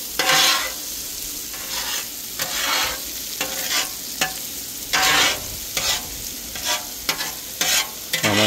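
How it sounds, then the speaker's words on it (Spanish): Onion fries in bacon fat, with a loud, crackling sizzle that swells in repeated bursts as it is stirred and tossed with a utensil, close to the pan. "Vamos a echar la cebollita un poquito para que se moje con el aceite del tocino"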